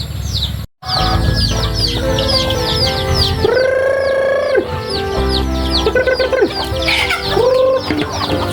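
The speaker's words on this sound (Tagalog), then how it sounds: "It's feeding time sa ating mga alagang manok." Backyard pet chickens and roosters clucking and calling busily at feeding time in the afternoon, a dense, steady chorus of overlapping clucks with a few longer drawn-out calls, close and loud throughout.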